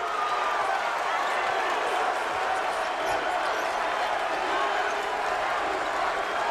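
Roughly 8,000 fans roaring steadily inside Siena's home arena during a MAAC college basketball championship quarterfinal against Manhattan, a dense, continuous wall of crowd noise with no break.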